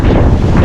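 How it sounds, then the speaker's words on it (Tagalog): Strong gusting wind at Bukana buffets the microphone in a loud, close, continuous roar with no voices. "Grabe, ganun kalakas ang hangin mga kajoks oh."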